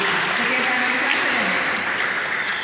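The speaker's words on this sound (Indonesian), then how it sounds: "Tepuk tangan untuk koordinator PD Sudia" Church prayer-group gathering in Makassar applauding the coordinator, a continuous patter of many hands clapping, with faint voices mixed under the clapping.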